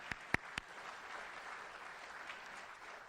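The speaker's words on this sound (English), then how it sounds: "Everybody give them another round of applause." A steady patter of clapping from a crowd at a National Honor Society induction ceremony, faint and somewhat distant, with a few sharper claps standing out at the start.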